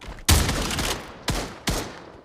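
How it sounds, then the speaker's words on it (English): Rocket launcher blasts in a video game hit as three sharp, loud explosive bursts, each decaying into a rumbling tail, spaced roughly a second apart. "It's always a rocket, dude."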